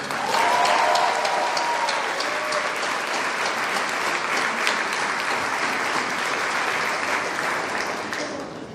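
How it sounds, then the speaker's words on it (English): A graduation-ceremony audience gives the high school band a sustained round of loud, dense clapping that holds steady for about eight seconds before tapering slightly at the end. "Please a huge round of applause for the high school band"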